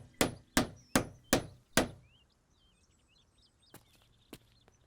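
Sharp hammer knocks in a Hindi-dubbed movie scene: five loud, evenly spaced blows in quick succession, then silence with faint birdsong and two softer, isolated knocks further back.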